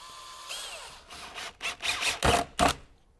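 Power drill driving a fastener and plate into a concrete roof deck, heard as several short, loud bursts of whirring that stop and start, with the last two bursts the strongest, close to the listener and with no talk over them.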